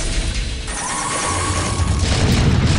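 A loud explosion from a bomb in the StarCraft video game, a heavy booming blast with a crashing rumble that holds for a few seconds, without speech.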